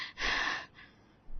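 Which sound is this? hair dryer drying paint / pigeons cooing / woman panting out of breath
woman panting out of breath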